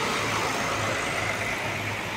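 Trans Jawa buses, Sinar Jaya and 27 Trans, pull into the Purabaya terminal in Surabaya at night with a loud, continuous engine roar and broad rushing noise.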